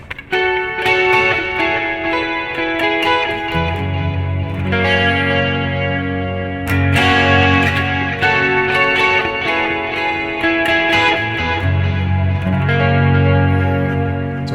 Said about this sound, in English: And that ping pong delay, you can hear that.